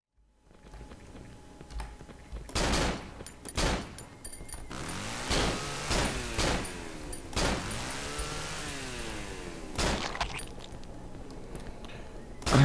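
Several loud, sharp gunshots in the horror game Cry of Fear, spaced a second or two apart and followed by lighter mechanical clicks of reloading, with a faint voice in the background.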